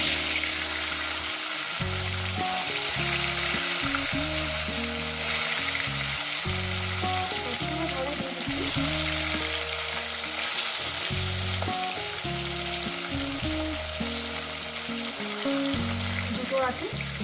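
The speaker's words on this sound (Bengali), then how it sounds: "এক এক করে মাছটা আমি দিয়ে দেবো তেলটাতে।" Pieces of katla fish sizzle and crackle in hot oil in a pan, a loud continuous frying hiss with bubbling and popping, along with intermittent clunks from a utensil.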